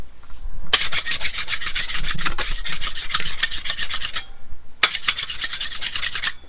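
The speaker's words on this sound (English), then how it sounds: "I use these for scraping the top of the molds" Scrapers drag across the top of latex rubber casting molds in rapid, rhythmic rasping strokes, up close, in two long runs separated by a short pause, with no talk.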